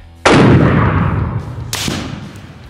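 Rifle shots fired at a shooting target outdoors: a loud, sharp blast with a long decaying echo, followed by a second shot about 1.5 seconds later, both close and alone without talk.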